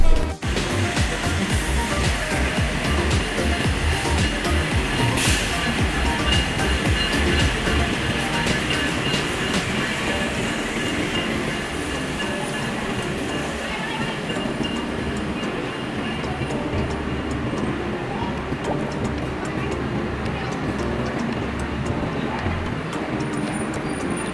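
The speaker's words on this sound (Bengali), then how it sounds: "কমলাপুর স্টেশনে ট্রেন আসা এবং যাওয়ার কিছু দৃশ্য দেখলাম" A train rumbles steadily through Kamalapur station in Dhaka, a loud continuous roar with rattling carriages and faint clickety-clack throughout.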